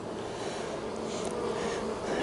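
Honey bees hum steadily in an outdoor bee yard during the tallow flow, a continuous close-up drone of many wings with no voices.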